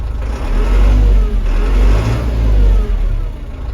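A Zetor tractor fitted with a MAN engine revving close by, a loud, low engine roar swelling and easing in a couple of surges.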